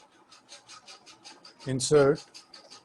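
Rhythmic rubbing strokes from erasing a board during a maths class sound in soft, even pulses, followed by a brief burst of a voice speaking.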